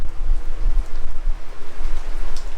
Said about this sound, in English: I see I started, but it started raining.